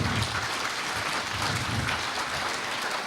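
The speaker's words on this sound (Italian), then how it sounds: "e un applauso, se lo meritano veramente" A live audience in Ruvo di Puglia breaks into applause, a loud, dense and even roar of clapping hands that fills the whole stretch without any talking.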